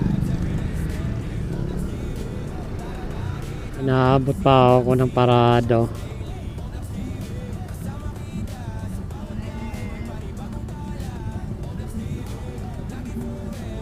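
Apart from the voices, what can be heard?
road traffic, cars passing by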